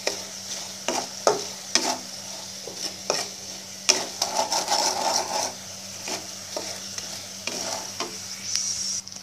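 French fries deep-frying in hot oil sizzle steadily up close, broken by scraping stir strokes every second or so and a short pause partway through, with no talking.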